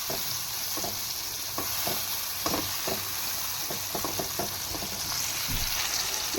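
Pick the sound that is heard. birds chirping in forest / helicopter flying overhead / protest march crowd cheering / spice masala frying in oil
spice masala frying in oil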